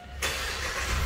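BAIC BJ40 Plus 4x4 engine starting, a sudden loud catch after a brief quiet moment that settles straight into a steady close engine roar.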